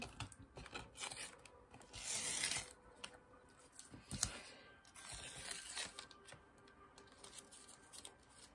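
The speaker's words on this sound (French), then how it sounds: "Je vais enlever le scotch pour que vous voyez bien." Close, quiet peeling and tearing sounds of tape being pulled from watercolour paper, in several short rasping strips with brief pauses between them.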